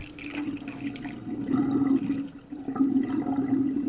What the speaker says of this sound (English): So the water is being drained.